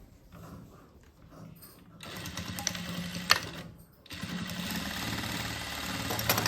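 A sewing machine stitches cloth in bursts, with a quiet buzzing run, a pause, then a louder steady mechanical whir that carries on to the end, close by and without speech.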